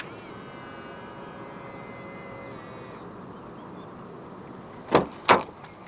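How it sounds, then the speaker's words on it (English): Door locks of a 2025 Toyota Yaris 1.5 G releasing via the driver's door handle button: after several seconds of low steady hum, two crisp mechanical clunks in quick succession, close and fairly loud. "And to unlock the car, just press the black button on the driver's side door handle again."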